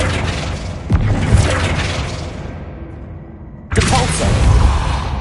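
A Flipendo spell cast in Hogwarts Legacy, a loud booming magical impact with a sharp crack and whooshing burst, then a fading rumble before a second strong blast hits.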